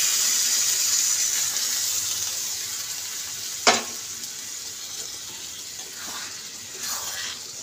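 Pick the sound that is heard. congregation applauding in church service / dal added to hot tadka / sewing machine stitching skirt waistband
dal added to hot tadka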